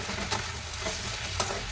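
Cumin seeds crackle and sizzle in hot oil, a soft, steady frying hiss with a few brief sharper pops.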